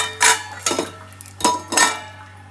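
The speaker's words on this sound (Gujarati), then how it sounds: "હવે એને ફેરવી દઉં એટલે ફટાફટથી એક ડીશ રેડી થઈ જાય, રૂહીનું ટિફિન થઈ જાય." Metal pan and utensil clatter as food is flipped while cooking for a child's tiffin, four distinct clanking bursts in quick succession, close and fairly loud with no talk.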